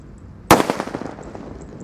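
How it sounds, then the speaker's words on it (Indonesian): A petir firecracker bursts with one sharp, loud bang after a short quiet lead-in, followed by a rapid crackling tail that fades over about a second. "Dimulai dari mercon petir ini, seperti ini."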